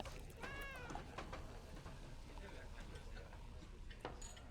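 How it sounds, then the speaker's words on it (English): A cat meows in the fantasy game Lord of the Rings Online: one clear, rising mew near the start, over a steady bed of ambient game noise and faint ticks. "Oh, look at the kitty."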